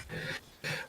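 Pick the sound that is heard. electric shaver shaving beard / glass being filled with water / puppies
puppies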